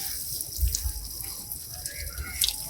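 Water poured onto rose plants in soil freshly loosened and mixed with cocopeat and cow-dung manure, a soft, steady splashing and trickling at close range with a few heavier gushes.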